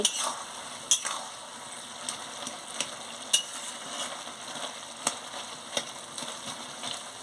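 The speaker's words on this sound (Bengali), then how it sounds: "চাপাটা খুলে ভালো করে এটাকে নাড়িয়ে নিচ্ছি" Cabbage curry being stirred in a pan, with a steady soft sizzle and intermittent scraping clicks of the spoon against the pan, close and moderately quiet.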